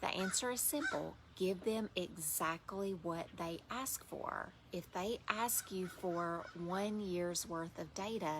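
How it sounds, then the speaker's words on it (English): A loud bird calls repeatedly in the background, with honking, goose-like cries running under a steady stream of close speech from someone talking. "I know there's a loud bird in the background today."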